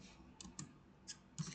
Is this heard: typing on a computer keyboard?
yes